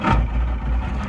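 A 1988 Wellcraft V20 open center console boat idles on the water, its warmed-up engine giving a steady, close, low rumble with no voices.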